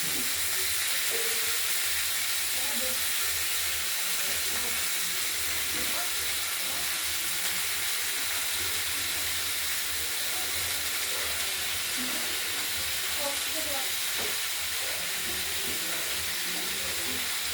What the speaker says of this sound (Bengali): ভাজা কপিটা দেওয়া হয়ে গেল এবার নেড়ে চেড়ে